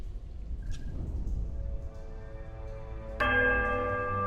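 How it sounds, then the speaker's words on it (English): A large iron bell rings in a Pillars of Eternity ruin, first a faint wobbling tone over a low rumble, then a loud bright strike near the end with rich sustained overtones. "The bell sounds strange, a wobbling peal that grows to a painful shrillness before diminishing to a mournful chime."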